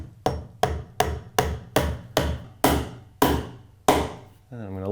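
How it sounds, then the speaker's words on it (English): A hammer drives a nail into the wood of a pocket door frame kit: eight sharp, evenly spaced strikes, close and solid, each with a short decay, followed by a brief rising tone at the end. "I'm going to take a nail and hold it right dead center there, and then I'm going to hammer it straight in"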